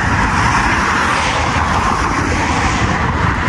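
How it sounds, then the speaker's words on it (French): Busy street traffic in Sharjah near the beach, a loud continuous wash of passing car engines and tyre noise blending into one steady roar. "Bah vous voyez la circulation, il y a des voitures partout"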